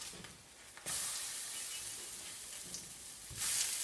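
Gluten-free pancakes sizzle in hot oil on a stovetop after being flipped, a steady bright hiss with louder bursts at the start and end.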